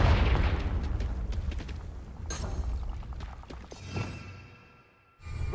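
A Confringo blasting-spell explosion in Hogwarts Legacy, a loud opening blast that decays into rumbling debris, with sharper bursts midway and a final pop after a brief lull.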